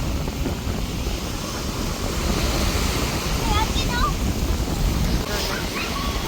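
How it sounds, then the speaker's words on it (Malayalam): Strong wind buffets a Lakshadweep beach while sea waves roar in a continuous wash of surf, loud and close, with a few faint high chirps on top. "നല്ല കാറ്റ്, കാറ്റുള്ളതുകൊണ്ട് നമ്മൾ പറയുന്നൊന്നും കേൾക്കത്തില്ല."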